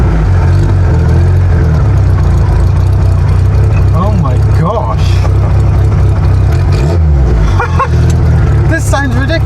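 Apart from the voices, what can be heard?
Reliant Reaper hot rod car engine revving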